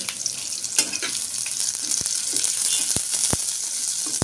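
Chopped onion frying in oil with salt for noodle egg shawarma filling, a steady hissing sizzle close by with occasional sharp stirring taps, no voices.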